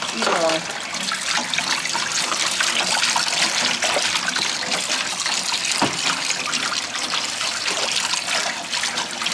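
Water runs steadily into a kitchen sink being filled with baking soda and water to soak greens, a continuous hissing splash lasting throughout.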